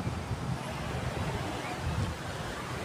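Ocean waves rolling onto Entroliso Beach in Samal, heard as a continuous, fairly faint surf wash mixed with wind rumble and no clear speech.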